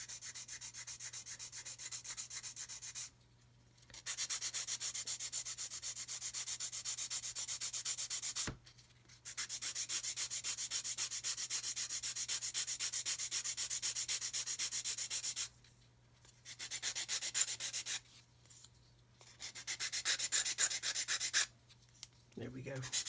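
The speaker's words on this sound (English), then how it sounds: "And then on the side, we'll just sand away." Close, rhythmic rasp of sandpaper worked back and forth on a small plastic part from a 1/32 Kitty Hawk OV-10 Bronco model kit, in several long bursts separated by short pauses, over a faint steady hum.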